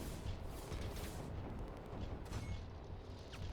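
In the strategy game Line War, tanks attack and destroy a town: rapid overlapping booms and cannon blasts roll continuously, a dense, rumbling barrage of gunfire and explosions at moderate volume.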